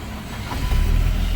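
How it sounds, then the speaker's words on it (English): A car with a stiff, hard-to-shift manual transmission sits running, its engine giving a steady low rumble that swells slightly louder partway through. "the car is on"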